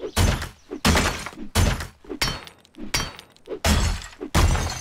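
Bulletproof glass is struck and broken again and again in the survival game 7 Days to Die, about seven loud, heavy impacts with shattering crunches at a steady, rhythmic pace.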